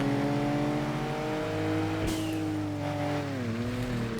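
Honda NSX race car launching in the video game Kaido Racer, its engine droning with steady harmonic tones that shift in pitch as it revs and pulls away, heard alone at moderate level.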